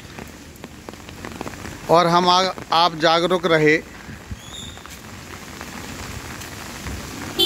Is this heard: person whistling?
no